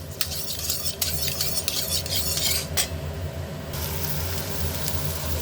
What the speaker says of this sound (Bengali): এদিকে আমি আলু ভাজাটা শুরু করে দিয়েছি